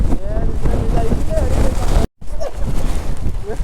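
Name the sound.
strong wind blowing while riding a motorbike in the rain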